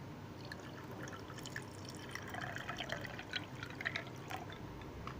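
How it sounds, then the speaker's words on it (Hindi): Faint trickling and splashing of water being poured into a tamarind and dried plum drink, a soft, continuous liquid sound with small drips, fairly quiet and close. "और अभी नाज़रीन इसमें पानी शामिल कर लेता हूँ।"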